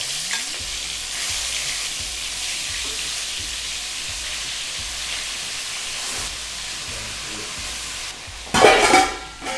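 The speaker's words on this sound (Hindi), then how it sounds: "हम पहले चिकन को सौते कर लेंगे" Chicken sautéing in hot oil in a kadai, a steady loud sizzle with rhythmic stirring scrapes throughout and a sharp burst of spitting near the end.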